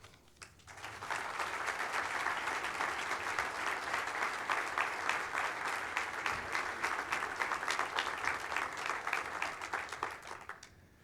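Audience applause welcoming a speaker, a sustained, even burst of many hands clapping that starts abruptly after a second and carries on at steady volume to the end.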